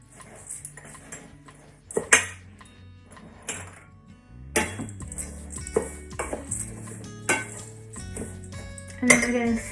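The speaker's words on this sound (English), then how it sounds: "And then we're going to stir in the chia seeds." Gluten-free vegan high-protein bread mixture being stirred in a hot pot, with a spoon clattering and scraping against the metal in scattered knocks and clinks, close and fairly loud, with no talking.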